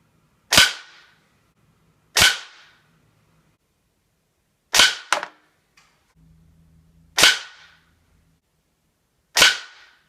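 Benjamin 392S air rifle fired at a 45-yard target, five sharp cracks spaced roughly two seconds apart, each with a quick decaying echo, one followed by a faint metallic tick and a brief low rumble between shots.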